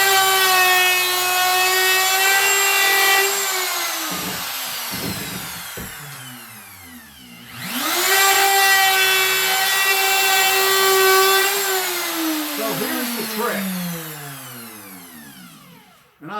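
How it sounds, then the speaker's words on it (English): A handheld wood router whines loudly and close as it runs around the edge of a wooden piece to copy it, spinning down and back up mid-way, with scraping rubs of the cutter against the wood. "I'm going to go ahead and run the router around it"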